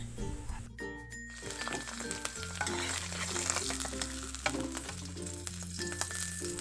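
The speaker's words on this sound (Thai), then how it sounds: "เดี๋ยวเราลองไปทอดกันนะคะ" A brine-salted duck egg frying in a pan, a continuous close sizzle and crackle with a faint tonal hum running underneath.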